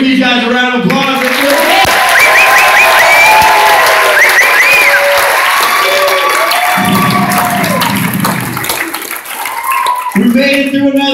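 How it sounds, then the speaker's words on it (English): Audience at a hypnosis comedy show in a hotel bursting into loud applause and cheering, a dense crowd roar that swells and fades with shouts and voices mixed in. "Give these guys a round of applause."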